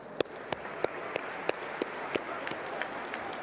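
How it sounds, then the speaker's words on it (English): Sparse clapping greets boxing announcer Michael Buffer at a press conference in Riyadh, a few sharp individual claps spaced out over a low room murmur, fairly thin and not a full ovation. "Can we just get a round of applause?"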